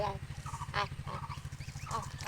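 Geese honk repeatedly over a steady low rhythmic hum, with several short nasal calls scattered through the clip.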